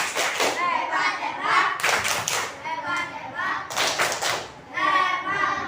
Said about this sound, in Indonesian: Berikan tepuk hebat.